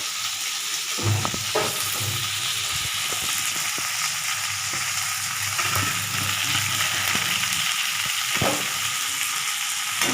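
Chopped coriander leaves frying in a pan over a low flame, a steady close sizzle with occasional stirring scrapes and clinks running throughout, no talk.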